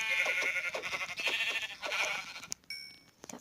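Sheep bleating in a video game: a wavering, nasal bleat fills the first couple of seconds, followed by a few brief, thin electronic tones after it stops, with no talking.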